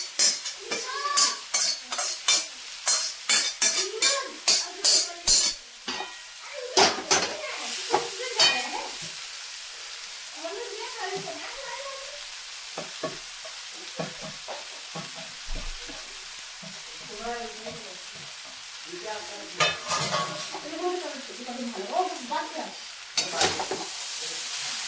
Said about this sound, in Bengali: আমি চাউমিনটা লোহার কড়াই থেকে অ্যালুমিনিয়াম কড়াইতে নিয়ে নিলাম